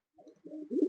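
A pigeon in a loft gives a short, soft, low coo that rises into a fuller burble at the end, close and alone.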